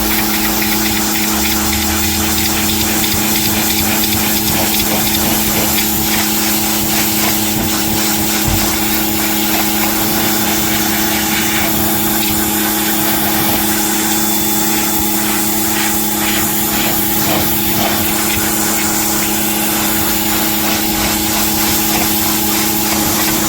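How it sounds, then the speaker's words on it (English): A 4000 PSI pressure washer runs loudly and continuously, its engine drone and pump hum steady under a hissing spray of water, with no one speaking. "Overall, this is a great pressure washer."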